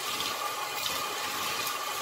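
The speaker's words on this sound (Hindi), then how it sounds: "अब इसके ऊपर ये मैं ठंडा पानी डालूंगी" Cold water pours steadily over freshly made chhena for rasgulla, a continuous close, even rushing and splashing with no pauses.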